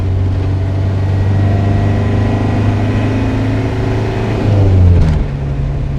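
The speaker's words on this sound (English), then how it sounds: "That's a proper old school diesel engine." The old diesel engine of an LDV 400 camper, a Leyland DAF Sherpa, drones loud and steady from inside the cab while driving, with a gruff low rumble that swells briefly before easing off.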